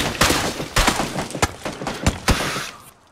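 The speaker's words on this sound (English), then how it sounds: "I hear gunfire." A rapid volley of gunshots in PUBG cracks out in uneven bursts, sharp and loud, a few shots landing close together before trailing off into quiet.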